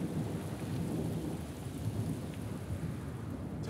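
Heavy rain pours steadily over a commando training camp, with a deep, continuous rumble of thunder underneath and no voices.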